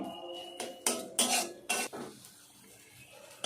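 Metal spoon scrapes and clinks against a pan in quick, irregular strokes while frying spices for soybean korma, then the stirring settles to a quiet background.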